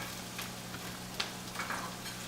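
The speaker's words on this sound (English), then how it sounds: "Hear the sizzle, always a good sign." Cabbage sizzling in hot oil in a pan over a fire, a steady soft frying hiss with faint crackles and a brief stir, fairly quiet and with no talk.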